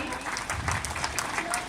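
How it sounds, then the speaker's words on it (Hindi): Audience at a school annual day celebration clapping, a brief burst of many hands applauding in a hall, moderately loud and mixed with a voice speaking over it. "क्लैप कर देंगे आप सभी,"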